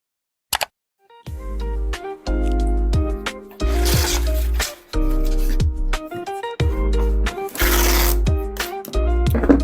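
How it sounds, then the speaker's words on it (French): Packing tape is pulled off its roll and pressed onto a cardboard box during a move, making two harsh ripping screeches that cut through steady background music. "je déteste ce bruit de scotch, c'est immonde."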